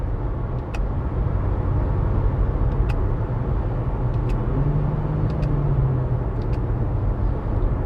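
Interior of a 2022 Suzuki Vitara Hybrid on the move, with a steady loud road and engine rumble throughout, a few faint clicks from the steering-wheel paddle shifters, and a brief rise in engine tone midway through.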